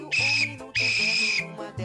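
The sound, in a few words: final whistle ending a football match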